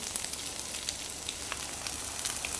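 Garlic fried rice with egg sizzles steadily in a hot pan, a constant close hiss with a few brief crackling pops and no voices.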